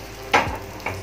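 Bread dipped in gram flour batter lands on a hot griddle, two brief close splats over a steady soft sizzle.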